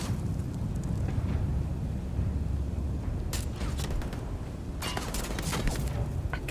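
Gunfire in the game Starfield crackles at a distance, with scattered bursts of sharp shots, clustered around the middle and end, over a steady low rumble of ambient noise.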